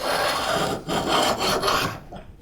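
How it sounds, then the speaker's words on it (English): A hand plane takes a single shaving pass along the edge of a wooden board, giving a steady close rasping swish that briefly dips and trails off toward the end, with no talking. "just to make one pass on one edge. Take a shaving like that."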